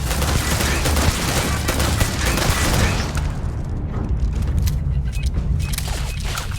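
Starfield video game combat with a dense, loud barrage of gunfire and a grenade blast for about three seconds, then scattered sharper shots over lower rumble.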